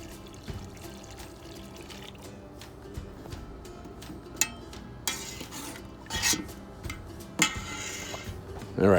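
Pool shock granules are being stirred into water in a pot, giving soft scraping, swishing and occasional clinks of a utensil against the pot. The sounds are close and fairly quiet, with sharper knocks toward the end.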